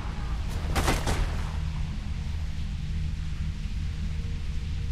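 Sniper fire in Mirror's Edge, a quick cluster of two or three sharp, loud cracks early on, followed by a low rumbling game background that continues steadily.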